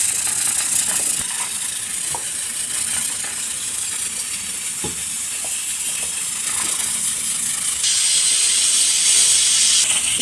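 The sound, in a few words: pressure cooker whistles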